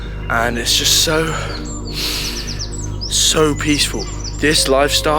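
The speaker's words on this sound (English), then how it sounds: "you could already hear the birds chirping" Birds chirp and call repeatedly in the early morning outdoors, bright tweets and quick warbling phrases near and clear, heard alongside a person talking calmly.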